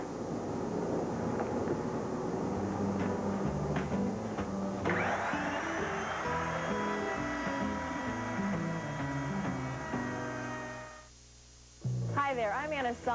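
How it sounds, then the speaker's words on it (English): A router fitted with a 1/2-inch two-flute carbide-tipped cutter runs along a sheet seam, giving a loud, steady, whining drone for about ten seconds before winding down, with a voice briefly heard at the end. "this 1/2-inch 2-flute carbide tip cutter that we're going to run the seam with"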